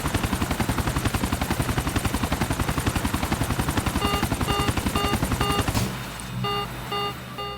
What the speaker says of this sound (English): I'm lightly brushing the rotor against the same surface.